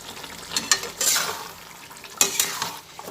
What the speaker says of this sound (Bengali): টক দই একটু জলে গুলে রেখেছি সেই টক দইটা ঢেলে দিলাম এর মধ্যে